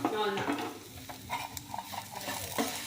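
Soya chunks (meal maker) frying in a pan while being stirred, a close sizzle broken by rhythmic scraping and clinking spoon strokes against the metal, with a brief voice-like murmur at the start.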